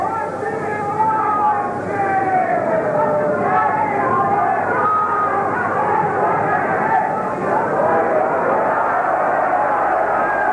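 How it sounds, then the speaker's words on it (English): A boxing arena crowd at a bout between Dave Douglas and Gary Jacobs, reacting with a sustained disapproving murmur and rumble of many voices, a dense, steady hubbub throughout. "Well, the crowd didn't like that."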